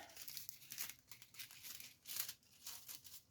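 Thin metallic foil being cut into a small piece, giving a run of dry crinkling and crackling rustles with short bursts, close and fairly quiet, with no talk.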